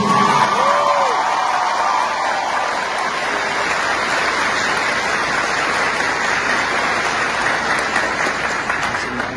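A large crowd at a Haitian political speech applauds and cheers loudly, a dense continuous roar of clapping with whoops and shouts that stays at full strength throughout.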